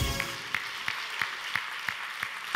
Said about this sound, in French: un tonnerre d'applaudissements, s'il vous plaît, chers amis